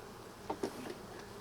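Bees buzzing faintly around an Australian beehive, with a few short, slightly louder buzzes rising from a quiet, steady hum near the middle.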